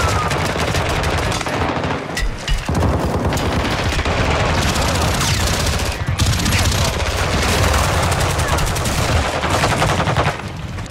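Sustained Tec-9 gunfire in Call of Duty Modern Warfare 2, a loud, dense, unbroken stream of rapid shots with booming impacts, close and continuous throughout, with a voice faintly underneath.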